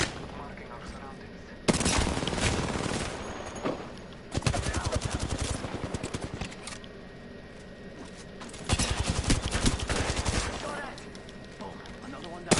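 Rapid automatic gunfire rattles in long loud bursts during a video game, dense machine-gun volleys with short gaps between them, while a voice talks over parts of the shooting.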